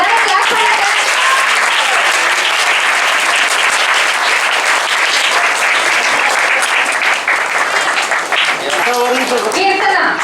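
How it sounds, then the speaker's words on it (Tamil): Audience at a gathering applauding, a dense sustained burst of clapping that stays loud for about ten seconds, with voices mixed in toward the end. "எல்லாரும் கிளாஸ் பண்ணுங்க."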